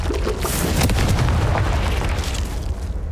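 Confringo spell blast in the Hogwarts Legacy video game, a loud, dense explosive burst with heavy low rumble that stays sustained and full for the whole few seconds, with no talk over it.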